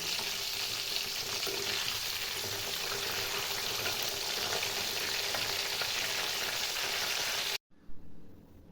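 Vegetable chicken nuggets deep-fry in oil until golden brown, a dense, loud, continuous crackling sizzle that cuts off abruptly near the end, followed by a brief clatter.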